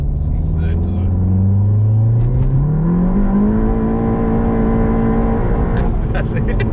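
A Stage 3 VW Golf GTI Clubsport pulls hard in third gear, the engine note climbing steadily and loudly from low growl to a high, sustained rev with a rushing intake roar, close to the listener.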